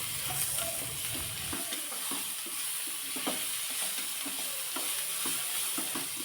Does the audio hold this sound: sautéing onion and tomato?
yes